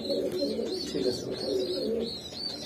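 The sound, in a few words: pigeons cooing at a racer pigeon farm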